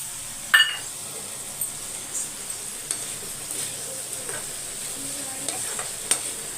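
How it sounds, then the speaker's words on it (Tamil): Coconut being stirred into a dish in a pan over low heat for a lunch box meal: faint scraping and soft stirring with a few light clinks, quiet and intermittent. "இப்போ நல்லா மிக்ஸ் பண்ணிவிட்டு இதுலேயே நான் தேங்காய் போட்டுக்க போகிறேன்"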